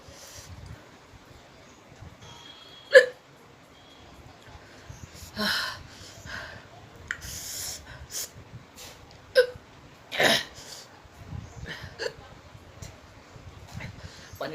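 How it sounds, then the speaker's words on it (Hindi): A person has a few sharp, isolated hiccups spaced several seconds apart during a hiccup challenge, with breathy sounds, sniffs and soft noises between them. "3 हिचकी आई है मुझे"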